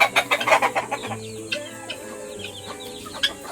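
Chickens cluck in their cage, a flurry of loud overlapping clucks at first that settles into scattered softer calls, close by.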